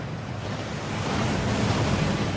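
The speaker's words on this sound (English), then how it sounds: "That waterfall washes away all enchantments." Rushing waterfall in the Hogwarts Legacy video game, a continuous broad roar of falling water that swells slightly louder partway through, steady and close, with no voices.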